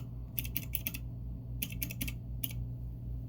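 Keys clack on a mechanical keyboard in three quick bursts of crisp, close keystrokes over a steady low background hum, with no speech.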